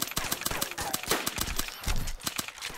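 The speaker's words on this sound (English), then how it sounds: "I hit one with a shotgun, I think one's down." Shotgun fire in DayZ Standalone, several sharp, punchy blasts at irregular intervals mixed with footstep-like thuds and other game noise, with voices talking over it.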